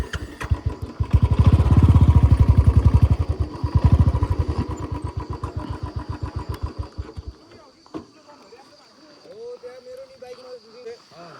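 A dirt bike engine, apparently a Royal Enfield Bullet, strains on a trail with a loud, pulsing low throb that sputters out after about seven seconds, followed by faint voices and quieter sounds.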